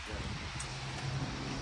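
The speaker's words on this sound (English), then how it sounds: "It's still pretty windy right now." Steady wind blowing across the microphone, a continuous low rumble and rustle with no speech.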